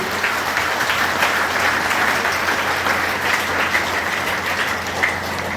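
A large audience at a DXN meeting in Jehanabad claps continuously, a dense, steady wash of applause that stays loud throughout without pause.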